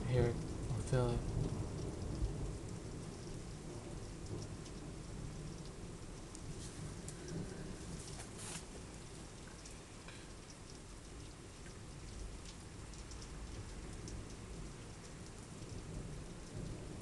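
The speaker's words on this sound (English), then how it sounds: "I don't know why it's even raining when it's summer." A summer night thunderstorm brings steady rain pattering on surfaces, with a rumble of thunder at the start fading into the downpour, and people talking quietly now and then.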